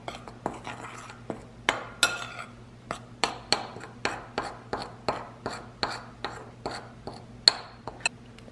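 A spoon knocks and scrapes against a bowl while dry whole wheat pumpkin muffin ingredients are stirred together, a steady series of about twenty sharp clinks and taps at a regular rhythm over a faint low hum.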